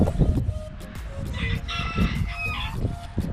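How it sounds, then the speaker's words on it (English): A chicken calls in the background, with a few short bright clucks or crows cutting over low rumbling handling and ambient noise. "Sorry about the chicken."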